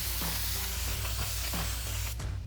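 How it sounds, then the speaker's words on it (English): Brake cleaner sprayed from an aerosol can onto a new PowerStop Z36 brake rotor for a Jeep Gladiator JT, a continuous close hiss broken by several short bursts, fairly quiet and with no speech. "we'll spray this all down to remove any manufacturing residue"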